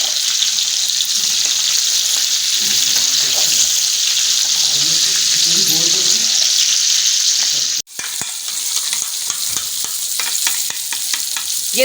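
Green chillies fry in about 100 grams of oil over high heat, a loud, steady, close sizzle that runs throughout with a brief break near the end, and no talk.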